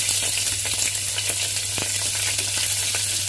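Onions sizzle and fry steadily in a pan with cinnamon, cloves, cardamom and cumin for vegetable pulao, a continuous close crackle broken by a few brief clicks of stirring, with no talking.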